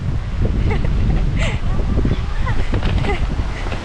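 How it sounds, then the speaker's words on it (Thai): Strong wind buffets a mountain campsite at Khao Yai Thiang, Thailand, as a loud, steady low roar that runs the whole time, with voices talking beneath it. "ต้องล็อกต้องล็อกลมแรงมาก"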